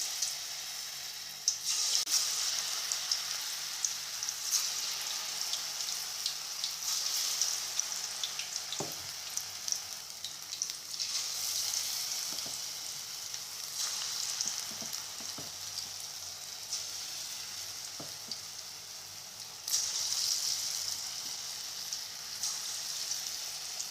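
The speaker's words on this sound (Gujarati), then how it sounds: "હવે આપણે આના ભજીયા બનાવીશું તેલ ગરમ થઈ ગયું છે આ રીતે થોડું ખીરું હાથમાં લઈ લઈશું પછી તેલમાં ઉમેરતા જઈશું" Farali bhajiya fritter batter sizzles steadily in hot oil, a close, continuous crackling frying sound with occasional sharper pops and small bursts as more batter drops in.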